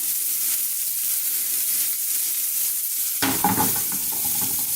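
Olive oil in a frying pan hisses steadily, then a sudden louder burst of stirring and sizzling near the end, close and with no talk.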